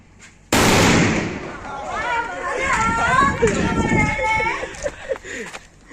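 A firecracker goes off at a wedding celebration: one sudden loud bang near the start, followed by lively chatter and shouting voices crowding the rest of the moment.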